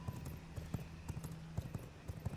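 A horse's hooves clip-clop in the video game V Rising, a steady rhythm of repeated hoof strikes at a quiet, moderate distance over a faint background hum, with no talking.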